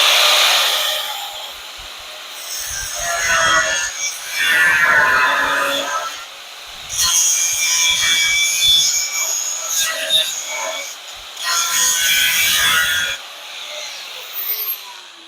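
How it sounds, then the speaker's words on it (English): Angle grinder working on the rotten frame of a 1970 Triumph TR6 during trailing arm support repair, a harsh bright whine in three long bursts separated by brief pauses, close and loud. "Grind a little more right in here, I think."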